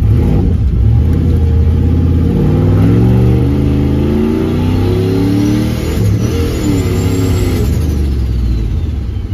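A turbocharged LS-engined Caravan fitted with a dump truck turbo accelerates hard, its loud, close engine note rising steadily in pitch through the gears with no talk over it.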